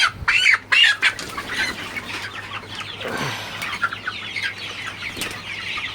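Sonali chickens cluck and squawk in a poultry shed on a hot, humid day, a few sharp calls near the start followed by a steady murmur of the flock, with a low constant hum underneath.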